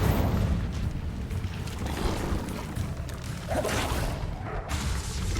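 The Incendio fire spell cast in Hogwarts Legacy sounds as a dense, continuous rumbling whoosh with a low boom, loud and steady throughout, with no distinct separate hits.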